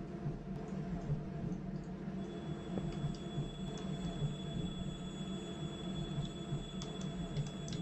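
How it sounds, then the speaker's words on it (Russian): A Minecraft train passes a railway crossing, heard as a faint, steady mechanical hum with light, regular ticking clicks layered on top. No voices are present. "едет у нас поезд"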